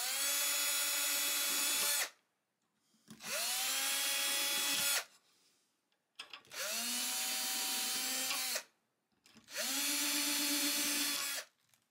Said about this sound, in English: I don't want to drill all the way through the headstock and have weird holes coming out the back